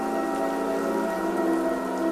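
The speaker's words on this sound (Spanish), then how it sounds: "La lluvia les arrebataba las armas." Steady, dense rain pours down continuously on an ancient battlefield, a broad, even hiss of drops striking surfaces with no pauses and no voices.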